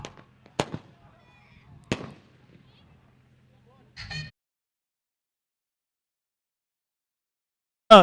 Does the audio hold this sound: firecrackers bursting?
yes